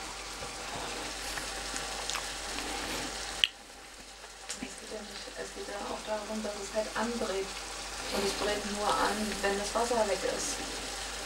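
Meat simmering in water in a pan for a German Bauerntopf stew, giving a continuous bubbling sizzle with an abrupt drop partway, then busier spitting and bubbling, close and moderately loud with faint voice underneath.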